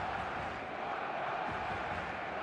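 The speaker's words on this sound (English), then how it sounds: "The stadium is full of noise and energy." A packed virtual stadium crowd in the eFootball video game gives off a steady, dense roar of distant voices and cheering that stays even and fairly quiet throughout.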